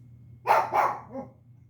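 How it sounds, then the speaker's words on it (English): A dog gives two quick, close barks and then a softer third yelp, each brief and sharp, over a low steady background hum. "I need a dog that doesn't know how to bark"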